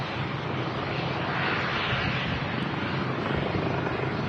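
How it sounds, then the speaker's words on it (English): A helicopter holds in the air near Manchester Airport, its rotor and engine making a steady, dense, unbroken roar that stays loud and even throughout, with no voices. "The heli's still holding."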